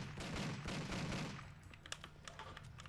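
Gunfire on a firing range in the video game Driver 3, a loud rapid automatic burst for about a second and a half, then sparser scattered shots and clicks fading lower.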